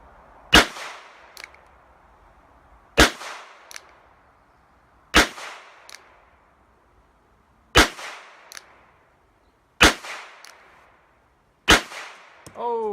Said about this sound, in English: I'm going single action,